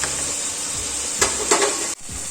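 Chopped tomatoes tipped into a hot pan for a coconut-milk chicken curry, giving a steady close sizzle and hiss with a couple of brief stirring scrapes, then a sudden drop as the pan is covered.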